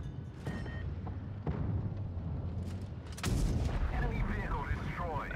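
Centurion medium tank gun firing in World of Tanks Blitz, several booming shots with sharp onsets and rumbling tails, the loudest heavy blast near the end, over game background sound.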